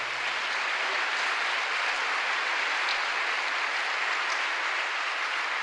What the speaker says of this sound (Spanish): Un aplauso, hermano, fuerte.